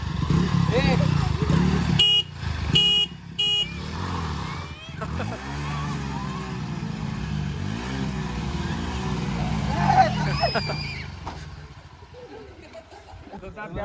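Honda Unicorn and Hero Splendor motorcycles started and left running, a steady low engine drone throughout with brief horn-like toots near the start, people talking over it, and the motor note swelling and fading in places.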